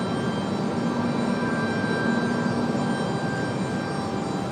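A Delta jet airliner arriving from Orlando at Raleigh-Durham International Airport gives off a continuous broadband engine roar with a faint high whine, steady and loud throughout with no voices.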